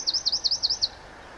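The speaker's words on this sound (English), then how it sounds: "Got a little dicky bird whistling away in the hedge." A small bird in a hedge in the English countryside whistles a quick run of about six bright, rising chirps, fairly close and clear, then falls quiet against soft outdoor background.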